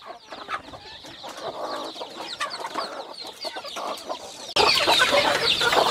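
Free-range native chickens cluck and chatter steadily at close range during feeding, the flock's noise growing louder and denser near the end.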